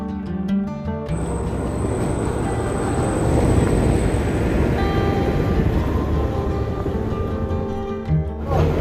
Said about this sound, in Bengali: ট্রেন ঢুকে যাচ্ছে আমাদের সিমলা।